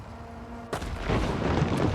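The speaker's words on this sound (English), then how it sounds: "they could just use the artillery to just open a breach" Artillery fire in a Total War battle with the Dawnless Days mod: a sudden heavy boom, then sustained loud rumbling bombardment with overlapping impacts, close and dense, no talk.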